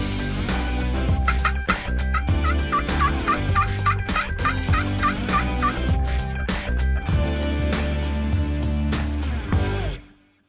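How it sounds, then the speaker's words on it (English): Rio wild turkey gobbler in Kansas gobbling loudly and close, a rapid rattling gobble repeated several times in the open evening air, with no talk. "Old Gobbler comes out with a couple hens."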